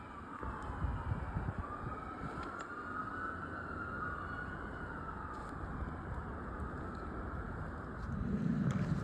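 A police car siren wails through city streets in downtown Calgary, its rising and falling tone drifting at a moderate distance over steady traffic and outdoor ambience before fading.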